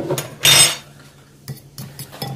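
Ground oven-toasted almonds stirred into a bowl, a loud clatter of spoon against dish near the start followed by a few lighter, scattered clinks and scrapes.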